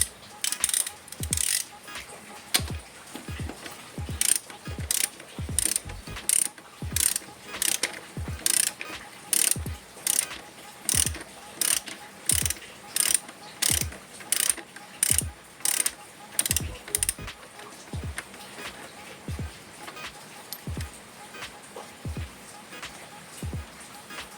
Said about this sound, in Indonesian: kita kendorkan dulu baut